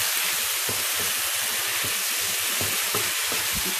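Vegetables for a Tamil white curry sautéing in a pan, a steady broad sizzle with scattered pops and crackles from close by, no voices present.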